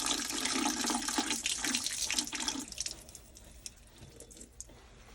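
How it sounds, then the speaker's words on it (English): Water gushes steadily out of an opened valve on a camp water accumulator, close and fairly loud at first, then easing to a thinner trickling flow with a few splashes. "That drains the water out of this accumulator here,"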